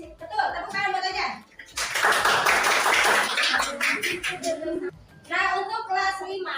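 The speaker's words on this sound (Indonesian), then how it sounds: "tepuk tangan buat Ujan." Classmates clap for a pupil after a correct answer in a combined grade 4 and 5 civics lesson, a burst of hand clapping in the middle of the clip, with a teacher's voice speaking before and after.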